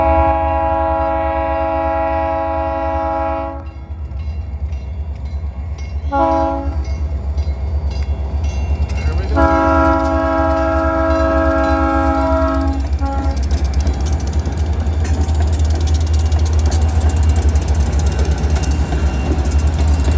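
A heritage train sounds its horn in long sustained blasts with short gaps as it passes an old railroad crossing, over a steady low rumble of wheels that builds into loud rolling clatter as the cars go by.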